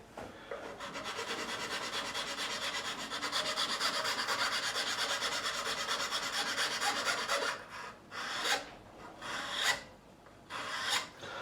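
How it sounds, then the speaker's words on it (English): A file rasps across the nut of a PRS Custom 22 guitar in a steady, close scraping run for several seconds, then breaks into a few short separate strokes. "And all I'm doing is just flattening the top of that nut a little."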